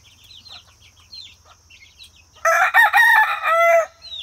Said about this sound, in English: Phantom, you gonna crow for us?